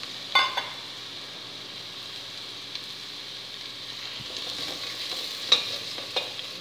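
Chicken pieces frying in a pot with carrot while being stirred, a soft steady sizzle underneath with a few scraping stirs and light knocks against the pot, fairly quiet and with no talking.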